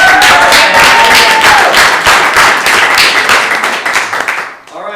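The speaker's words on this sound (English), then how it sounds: "extra round of applause" A hackathon audience claps in a steady, dense burst of applause that holds loud and even, then thins out and stops in the last moment.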